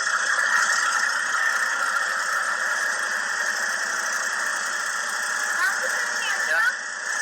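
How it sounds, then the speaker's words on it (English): A car engine runs steadily outside a school, giving a loud, continuous broadband hum with a high squealing tone throughout, while people talk over it. "Can you turn the engine off so I can hear you?"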